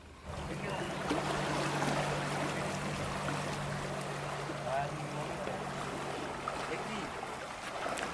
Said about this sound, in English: This is the river. The dam's open,